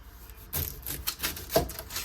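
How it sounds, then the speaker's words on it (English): Slightly dull kitchen knife cutting the ends off an onion on a board, a quick series of crisp close chops and cracks, fairly loud with no talking. "Now with the onion, this is how I like to cut the butts off."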